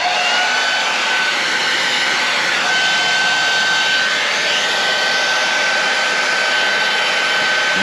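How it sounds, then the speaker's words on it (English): A hair dryer blows steadily and loudly at close range, warming paint to soften and remove wax, with a constant whooshing airflow and a thin motor whine throughout. "you take your hair dryer."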